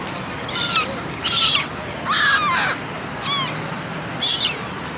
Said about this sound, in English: These are some classic birds.